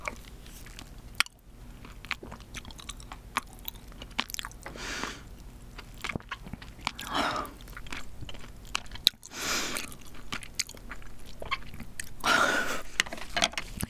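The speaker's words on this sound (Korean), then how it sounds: "일단 살을 찍어 한번 먹어볼게요" King crab meat, dipped and eaten up close, with steady wet chewing, soft crunches and squishy mouth sounds over several seconds, no talking.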